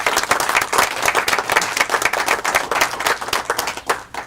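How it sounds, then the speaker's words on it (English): A crowd at an outdoor homeownership celebration claps in a sustained round of applause, loud and dense, tapering slightly at the very end. "Another round of applause is called for."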